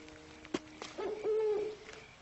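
An owl hoots at night outdoors, a low steady hooting call heard clearly over a hissy background, with a sharp knock just before it and a few faint clicks around.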